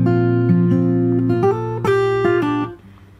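Fingerstyle guitar picks a short phrase of a chorus with a slightly changed third bar. Ringing bass notes sit under brighter picked notes, close up, and the phrase fades out at the end.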